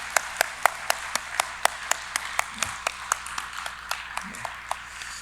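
A church congregation at a New Jersey Sunday service claps in thanks for parents on Parents' Sunday. Sharp, evenly spaced claps repeat steadily, with a quiet room and faint low voices underneath.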